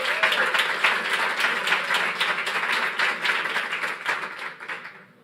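An audience at a launch event claps, with a cluster of individual hand claps audible within the applause, moderately loud and steady before tapering off at the end.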